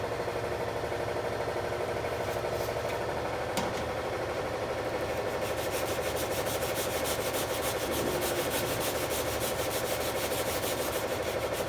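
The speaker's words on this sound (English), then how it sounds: "So sand both sides down like that till it's even." Hand sanding on the hood of a Fox Body race car, a continuous close rubbing rasp with a steady rhythmic scrape over a constant low background hum.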